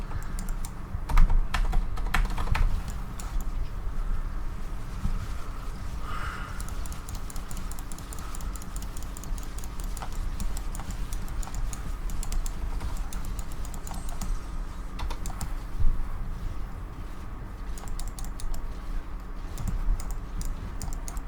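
Computer keyboard keys hammered rapidly during a Diablo 3 Necromancer game session, a dense, steady clatter of clicks running throughout at close range, with occasional louder bursts of hard keystrokes.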